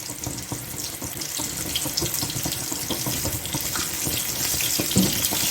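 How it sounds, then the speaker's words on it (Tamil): Pieces of KFC-style breaded chicken drop into hot oil and fry with a dense, continuous crackling sizzle, close and fairly loud, that holds steadily and grows slightly busier toward the end, with no talk over it. "இதை அப்படியே எண்ணெயில் போட போகிறோம்"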